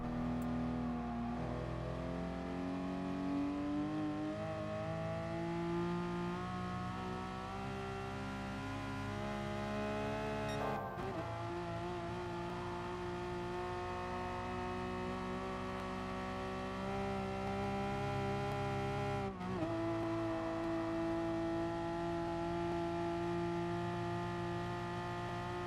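A race car engine in Gran Turismo Sport on the Nürburgring Nordschleife drones steadily at high revs, its pitch sliding up and down through gear changes and dipping twice as the car goes through turns, loud and continuous with no talking.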